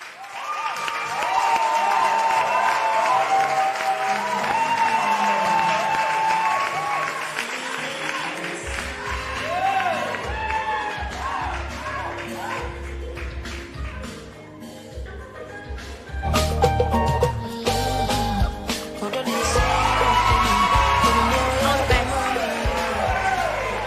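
A studio audience on a TV talent show breaks into sustained applause and cheering for a contestant, a dense wash of clapping with whoops that swells again near the end, with talk partly underneath.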